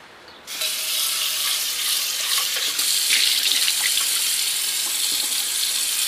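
Hot tap water gushing steadily into a cooking pot for macaroni, a bright splashing rush that starts abruptly and runs on at a constant level.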